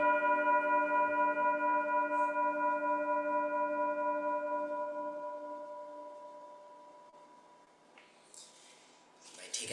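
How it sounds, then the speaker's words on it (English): A low meditation bell sounds with a sustained, resonant ring already in progress, decaying gradually over several seconds in a quiet room before some faint rustling noises near the end. "And for our exhales, we'll use the low bell."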